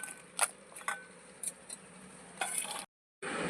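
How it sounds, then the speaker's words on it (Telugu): Dry red chillies being pounded in a stone mortar for a tamarind pickle: a series of sharp, close, irregular knocks and gritty scrapes against stone, fairly quiet, with a brief silent gap near the end. "ముందు ఎండుమిరగాయలు నూరుకుందాం"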